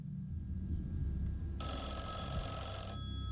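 A telephone rings in the horror video game Mothered, a bright electronic ring that starts abruptly and holds for about a second and a half over a low ambient background hum, without talk.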